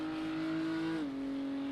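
Race car engine, a GT3 car at the Spa 24 Hours running with a damaged or missing exhaust, holds a loud steady drone that drops slightly in pitch partway through, rough and raspy throughout with no talking.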